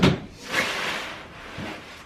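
A household drawer slides open and shut during a decluttering session, a short wooden scrape and knock at the start followed by softer rubbing and a muffled thud, close by and quiet.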